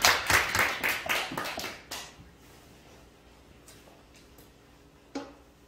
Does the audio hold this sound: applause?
yes